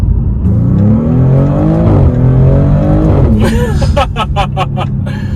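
A 2024 Maserati GranTurismo Trofeo, all-wheel drive, pulls hard under heavy throttle with a loud, close engine roar. A few sharp rising rev bursts come near the end, and voices can be heard in the cabin.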